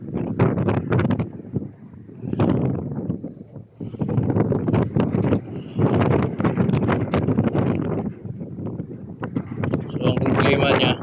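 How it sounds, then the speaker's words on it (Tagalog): Strong gusting wind buffeting high up on a SIMMA tower crane, with rumbling wind noise and rattling throughout, under someone talking. "Lakas ang hangin sa taas."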